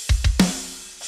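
A drum pattern for a Doom Eternal theme arrangement: two deep, booming kick thuds, then a sharper hit with a brief ringing tail, all loud and close with no other sound.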